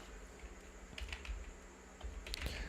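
Keystrokes on a computer keyboard come in scattered bursts of soft clicks over a low background hum, without speech.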